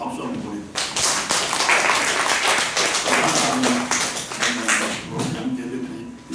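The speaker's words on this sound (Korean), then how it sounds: "여러분 건강하시라고 박수 한번 보내드립니다" A church congregation at a Sunday worship service breaks into applause, a dense, steady burst of many hands clapping at close range with a few brief dips, lasting several seconds.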